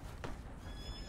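A horse in Red Dead Redemption 2 gives one short, close whinny early on, set against a steady, low ambient rumble of the game world.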